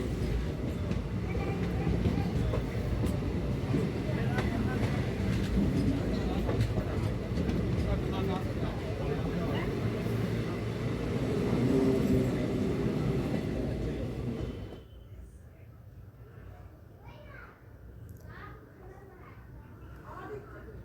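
A Bandel–Naihati local train heading toward Naihati rumbles loudly along the rails, then the roar drops off sharply in the last few seconds.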